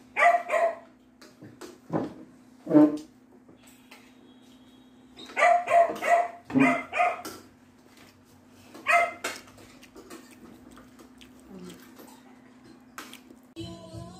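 A dog barks in scattered bursts, some sharp and close, some softer yips, over a low steady hum with quiet gaps between.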